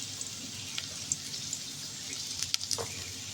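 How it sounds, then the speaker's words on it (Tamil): An onion fries in a pan toward golden brown for a beef pepper fry. A soft, fairly faint sizzle runs through it, with a few light clinks near the end. "நல்லா கோல்டன் ப்ரௌன் வர வரைக்கும் ஃப்ரை பண்ணணும்"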